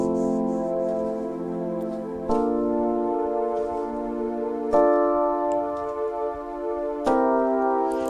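Piano playing triads turned into seventh chords, four sustained chords struck one after another about every two and a half seconds, each left ringing, with a faint ticking behind them.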